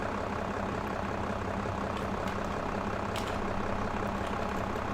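A tractor engine in Farming Simulator 22 drones steadily at a low idle, a constant heavy rumble with faint clicks and no talking.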